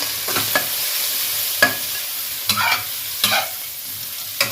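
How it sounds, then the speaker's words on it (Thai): Shrimp stir-fried with garlic in a hot pan: a soft constant sizzle punctuated by several sharp spatula scrapes and clinks at irregular intervals, no voices. "ใส่กุ้งลงไปผัดเลยนะคะ"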